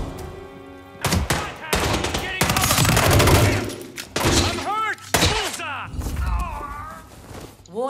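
Gunfire in the stealth action video game Hitman 3, with loud, irregular bursts of shots and impacts mixed with alarm-like warbling tones and raised voices shouting over the chaos.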